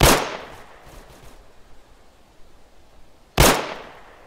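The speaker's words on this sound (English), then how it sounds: "I hear really close gunshots." Two sharp, loud gunshots in the video game America Simulator crack about three seconds apart, each with a short echoing tail, against a quiet background.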